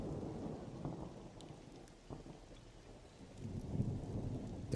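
Rain and rolling thunder in the video game Monsters & Memories, a continuous soft patter of rain under low rumbles that swell toward the end, with no talk.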